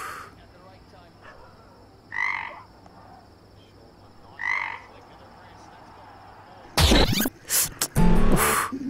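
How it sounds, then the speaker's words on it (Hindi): Two clear frog croaks a couple of seconds apart in a movie scene over a low background hiss, followed by a burst of loud, harsh noise. "अरे मेंढक है।"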